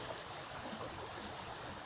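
Water moving around a reef forms a steady, soft wash of broadband rushing that stays even and continuous for a couple of seconds, faint and without voices.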